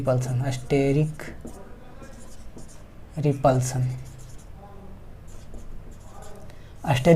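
Writing on a board during a chemistry lecture on molecular planarity and steric repulsion, heard as soft scratchy strokes in short bursts between and beneath the lecturer's speech.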